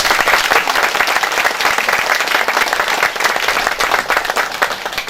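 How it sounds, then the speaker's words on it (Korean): Loud, sustained applause from an audience at a Korean building-completion ceremony, dense clapping filling the room steadily without pause. "힘찬 박수로 축하해 주시기 바랍니다."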